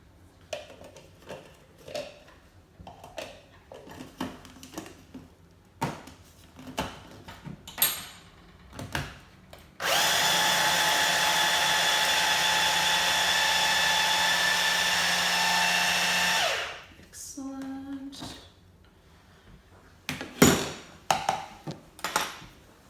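A blender whizzing garlic cloves, some skins included, into a fermented garlic paste, roaring steadily and loudly for about seven seconds between scattered knocks, clatters and handling sounds in a kitchen.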